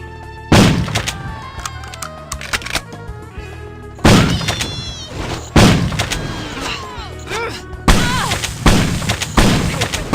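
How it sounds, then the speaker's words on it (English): Three loud, booming shotgun blasts firing explosive rounds in the spy shooter game No One Lives Forever 2, spaced a few seconds apart, each with a heavy thump and a ringing tail, with game sounds lingering between shots. "Explosive ammo for the shotgun is pretty darn good, by the way."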